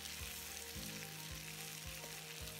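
Chicken grills on a hot tawa with a steady, close sizzle and crackle, broken by soft regular scraping or pressing sounds about every half second.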